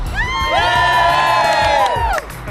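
A lively crowd at a host adventure event in Costa Rica cheers and whoops. Many overlapping voices shout together loudly and continuously before the roar cuts off abruptly near the end.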